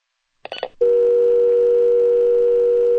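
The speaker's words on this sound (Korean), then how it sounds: "전화가 끊겼다." A few quick clicks as a telephone call is cut off, then a steady, unbroken dial tone hums alone at an even level to the end.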